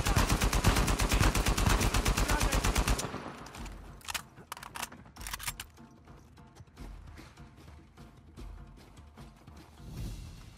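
Gunfire from a sniper fight in Uncharted 4: a loud, relentless rapid-fire burst for about three seconds, then scattered single shots and impacts trailing off amid quieter combat noise.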